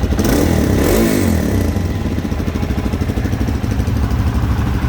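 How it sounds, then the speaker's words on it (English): A DRZ 400 dirt bike engine runs steadily up close, its exhaust giving a loud, rough, throaty drone with a rapid putter and slight revving throughout. "the DRZ 400 has a louder exhaust"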